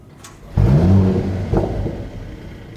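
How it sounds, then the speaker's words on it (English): A Mercedes-AMG E53 fires up through its AMG performance exhaust, one sharp loud catch rising into a burbling idle that settles gradually, heard close and alone. "let's do an emotion start and see what this car sounds like"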